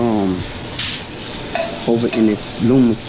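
Asparagus spears frying in a hot pan, a steady close sizzle running throughout with brief bursts of stirring scrape, while someone talks over it.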